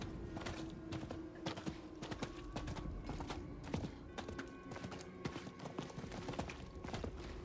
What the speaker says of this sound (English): Nope, keep riding the horse.